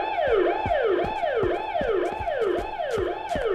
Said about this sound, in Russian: может я просто отключу сирену